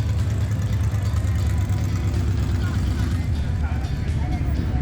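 An old truck idles at a historic Route 66 car show in Williams, its engine giving a loud, steady, close rumble that runs unbroken from start to finish.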